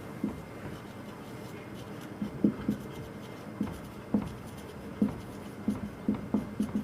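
Chalk or marker tapping and stroking on a classroom board during a physics lesson, making repeated short knocks and scrapes at an uneven pace over a steady low room hum.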